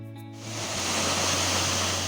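The Doubs river at the Swiss–French border makes a broad, steady rushing wash of flowing water. It swells in over a low hum in the first half second and then holds even and fairly loud, with no talking.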